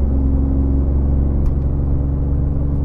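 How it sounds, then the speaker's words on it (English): A BMW i8 engine works under added load while the car climbs a hill, giving a steady, loud low rumble with a constant drone throughout and no talking. "So we're putting additional load on the engine right now."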